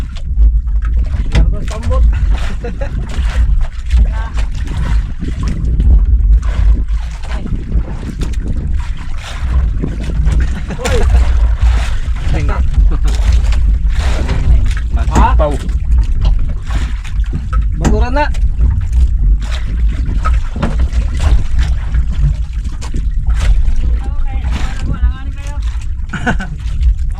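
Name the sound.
pumpboat motor running on water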